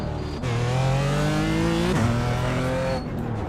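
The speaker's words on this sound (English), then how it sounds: "car is so loud I cannot hear anything else" A BMW GT4 race car at Sebring in a racing video game roars loudly, its engine pitch climbing through the gears with a shift midway, then easing off near the end.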